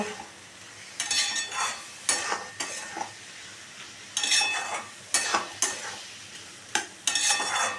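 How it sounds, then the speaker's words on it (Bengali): Spices and potatoes for a kudri aloo fry are stir-fried in a pan with a little sugar and water, giving a low sizzle broken by repeated loud scraping strokes of a spatula. "মশলাটা যাতে পুড়ে না যায় আমি সামান্য একটু জল দিলাম দিয়ে প্রতিটা জিনিস আমি ভালো করে কষিয়ে নেব"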